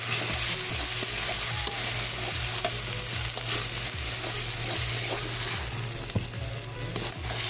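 Chili powder and salt sautéing with spices in a pan for a Bengali egg and brinjal curry, a steady close sizzle with repeated scraping stir strokes throughout, no talking.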